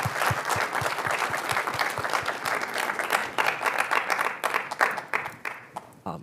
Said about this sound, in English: If we could all join in a round of applause.